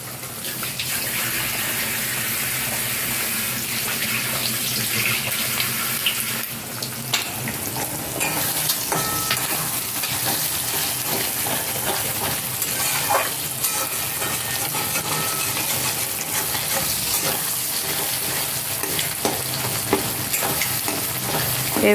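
Two eggs frying and being stirred in a hot pan give a steady, loud sizzle with scraping stir strokes running throughout, no voices over it.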